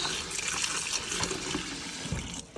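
Water pours from a tap into a bowl of produce in wash, a continuous splashing gush that stays steady and close, then eases off near the end.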